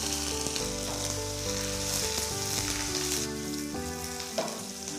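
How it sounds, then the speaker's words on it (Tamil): Onions frying in hot oil with fennel seeds and curry leaves for a pazha milagai prawn dish, a steady close sizzle running throughout over a tonal musical background. "இதில் நான் பண்ணுறேன் சோம்பு, கருவேப்பிலை, இதில் வெங்காயத்தை போடுறேன்."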